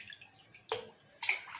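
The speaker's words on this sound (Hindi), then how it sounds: "और पानी देना पड़ेगा।" Water is poured into a cooking pot while making Kolkata-style kuska mutton pulao, coming as two short, close splashing pours with faint dripping between them and no talk.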